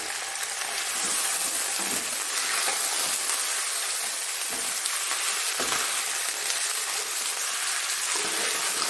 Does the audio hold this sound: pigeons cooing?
no